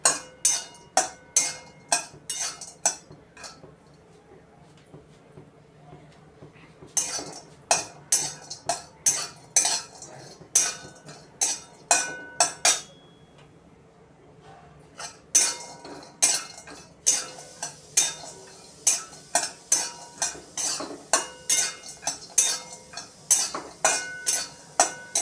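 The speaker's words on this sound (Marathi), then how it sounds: "थोडा वेळ असं खोबरं परतवून घेऊया लालसर रंगावर भाजून होईपर्यंत" Grated coconut being dry-roasted and stirred in a pan, a spatula scraping and clinking against the metal in quick, repeated strokes, with a short pause before the steady scraping resumes; no one speaks.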